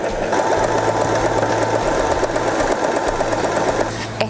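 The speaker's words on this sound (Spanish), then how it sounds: "Comenzá a coser y vas a observar que esta costura elastizada va hacia atrás y adelante" A Janome 3016 sewing machine runs a stretch stitch, a fast steady mechanical whir and needle clatter with a rhythmic back-and-forth pulse, close and continuous before stopping near the end.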